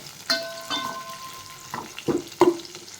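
Garlic and fenugreek sizzling in hot groundnut oil for a pumpkin stew, with a spoon scraping and clinking against the pan in several distinct strokes over a steady close frying hiss, no voices.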